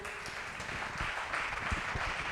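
Church congregation applauding during a Sunday praise and worship service, a steady wash of clapping from a large group that holds even and moderately loud throughout, with no voices standing out.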